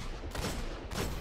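Hand cannon shots in the video game Destiny, firing the Palindrome in a Rise of Iron match: two loud, sharp gunfire bursts about half a second apart, each ringing briefly over dense game noise.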